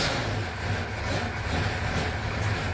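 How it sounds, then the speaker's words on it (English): Race car engines of the NASCAR Pinty's Series field at Sunset Speedway start up and idle along pit road, a steady low rumbling drone that stays at an even level. "Drivers, start your engine."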